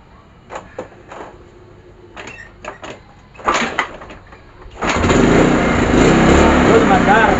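A Kymco Super 8 scooter runs unevenly on a replacement CDI. After a few seconds of knocks and clatter, the engine starts up loud and close, with a rough, fluctuating idle and some speech alongside it.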